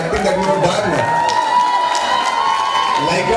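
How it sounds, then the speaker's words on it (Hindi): An audience bursts into applause and cheering with whoops and shouts, a loud, continuous crowd roar throughout that stays even in level from start to finish. "सर आप बॉलीवुड के नवाब हैं, एक बार तालियां बनती हैं।"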